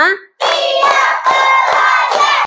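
A primary-school class performs a rhythmic spirit clap, children chanting loudly in unison with a few sharp claps landing between the chanted phrases.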